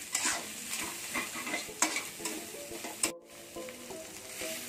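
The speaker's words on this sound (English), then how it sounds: "Now it's time to add some chilies, garlic and fine chopped onion or a shallot. And we will saute it" Chilies, garlic and finely chopped onion sautéing in a pan while being stirred, a steady close sizzle with scraping stir strokes and a brief pause near the end.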